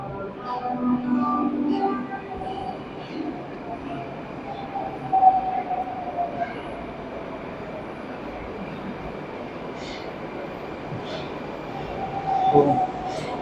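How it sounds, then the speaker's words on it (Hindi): A Moscow Metro train rumbles into a station, a low steady drone with a faint whine rising over it. Some brief clanks and a murmur of voices sound in the background. "मेट्रो आ गई है।"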